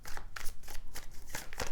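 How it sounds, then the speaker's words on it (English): Tarot cards being shuffled by hand in a series of soft, papery riffles and slides, close and fairly quiet, with no talking. "So I'm just going to keep shuffling"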